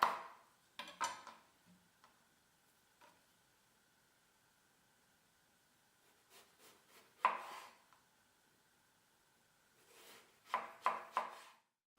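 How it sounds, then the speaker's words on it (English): A knife cuts lengthways through an aubergine into 1 cm slices, giving sparse, soft clusters of taps on a board, separated by near silence. "Cut the aubergine lengthways in about 1 cm slices."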